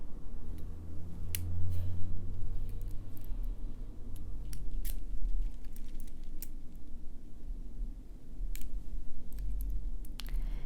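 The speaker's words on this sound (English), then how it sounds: "I'm going to finish it using the chain nose pliers to wrap that around the neck." Chain nose pliers wrap fine wire around the neck of a bead dangle, making scattered small metallic ticks and clicks over a low steady hum, close and quiet.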